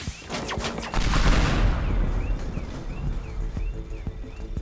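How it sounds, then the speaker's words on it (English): Weapons fire in the Teardown video game: a run of sharp shots, then a missile-like blast at about one second that leaves a long rumbling roar with scattered crackles. "we send in another missile, and we get the laser gun out"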